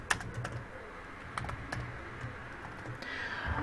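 Keys tap on a computer keyboard in short irregular clusters, fairly faint and close, over a quiet room hum.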